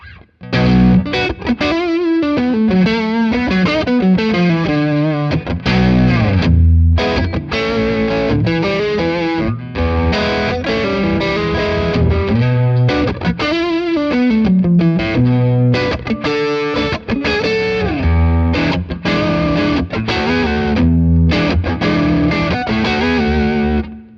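Heavily distorted electric guitar through a Wampler Tumnus overdrive pedal with the gain maxed, neck pickup, playing chords and riffs with short pauses, thick saturated tone.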